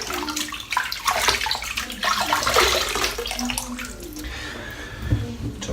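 Tap water runs and splashes into a basin as a face is wet before shaving, a continuous gushing stream with shifting splashy bursts from hands moving through it.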